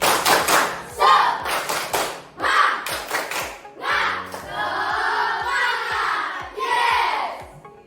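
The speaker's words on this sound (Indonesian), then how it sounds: "Tepuk semangat." Classroom pupils perform a rhythmic spirit clap together, a series of sharp group claps in a patterned beat with brief shouted chants between, loud and close, followed by a longer stretch of mixed voices.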